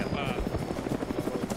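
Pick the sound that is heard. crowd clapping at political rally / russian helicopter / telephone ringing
russian helicopter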